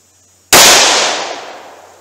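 A short-barrel .357 Magnum revolver fires a single-action shot of 158 grain Federal Hydra-Shok ammunition: one sharp, very loud crack after brief quiet, followed by a long fading ring.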